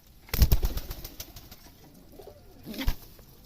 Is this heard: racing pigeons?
yes